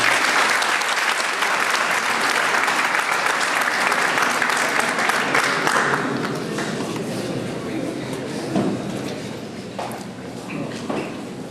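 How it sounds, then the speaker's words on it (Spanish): Loud, sustained applause from an audience at a law lecture at a bar association in Lambayeque, dense clapping that holds strong then gradually thins toward the end. "Para él, un fuerte aplauso."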